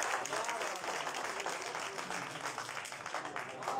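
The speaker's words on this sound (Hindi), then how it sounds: "खुल के तालियां बरार शाह के लिए," Dense applause from a live mushaira audience cheering a poet, continuous loud clapping throughout with some crowd voices mixed in.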